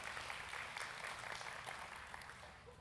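A church congregation applauds for Cassidy, a faint, distant wash of many hands clapping that holds steady and tapers slightly toward the end.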